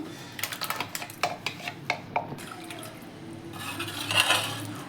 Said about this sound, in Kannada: ಉಪ್ಸಾರದ ನೀರು ಇದಕ್ಕೆ ಈ ರುಬ್ಬಿರೋದನ್ನ ಹಾಕೋತಾ ಇದ್ದೀನಿ